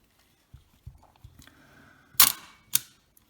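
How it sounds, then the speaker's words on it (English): Mechanism of a Contaflex II camera under repair: soft clicks and taps lead into two sharp, close shutter snaps about half a second apart as the shutter fires and the light flap closes, with no talk. "The shutter leaves have not opened yet. Now they start and the light flap has closed."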